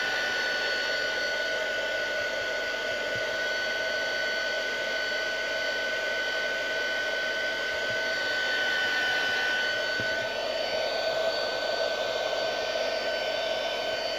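A hair dryer blows steadily to dry paint on a handmade Christmas stocking, a loud, constant close whoosh with a faint whine throughout and no pauses.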